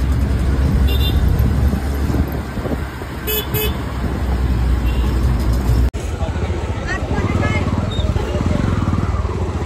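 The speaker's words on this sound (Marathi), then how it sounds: "तर मग चला रिक्षाने प्रवास करूया बाळकुमपर्यंत" An auto rickshaw engine putters through busy traffic, with horns tooting and passing vehicles, while voices speak in the background.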